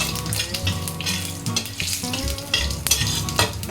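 Coriander, dried chili and cumin fry in a pan while being stirred, making a close crackling sizzle with repeated scraping strokes of a spoon and no one speaking.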